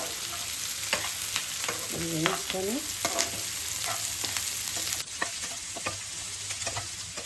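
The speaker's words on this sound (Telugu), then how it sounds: "ఉల్లిగడ్డ పచ్చిమిర్చి కరివేపాకు కట్ చేసి పోపు వేసుకొని" Onion, green chilli and curry leaves fry in a hot tempering for Rayalaseema-style punganalu, a continuous close sizzle with frequent spoon stirs and scrapes against the pan.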